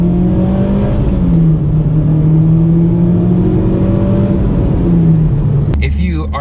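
A Mitsubishi Evo X Final Edition accelerates in second gear, its engine note rising steadily and loud from inside the cabin for several seconds before it abruptly cuts off; no one talks.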